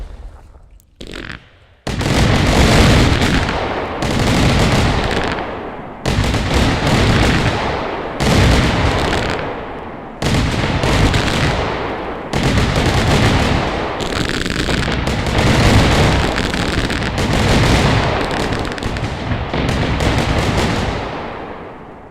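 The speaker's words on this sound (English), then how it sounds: "Admit it, this is the best New Year's Eve firework display you've ever been to." A New Year's Eve fireworks display: loud, close booms and crackling bursts come in long, dense volleys, separated by a few brief lulls, with no talk.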